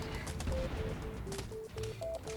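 Plants firing rapid repeated shots at zombies in Plants vs Zombies Fusion, a dense burst of pops and pings over steady game music, with no gaps throughout.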